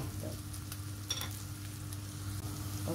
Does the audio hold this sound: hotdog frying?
yes